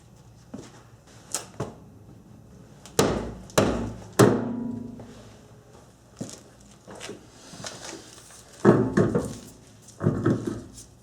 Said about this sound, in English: Go underneath and give it a kick.